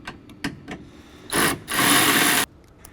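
A rechargeable ratchet with a 1/2 inch socket whirs on bolts while a spreader gear motor is removed, two short bursts, a brief one and then a longer loud one of about a second, near the mic among a few clicks.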